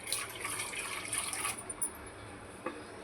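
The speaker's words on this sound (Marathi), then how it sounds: "हे कांद्याचं भांडं धुवून घेतलं मी, त्याचंच पाणी घालते." Water poured from a rinsed onion vessel into a cooking pot of potato curry, a steady splashing pour with brief drips near the end, close and alone.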